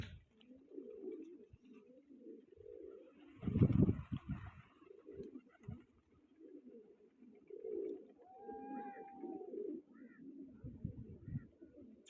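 Pigeons coo softly in a low, throaty rhythm, repeated several times, with a couple of faint chirps and a brief thump in a quiet setting.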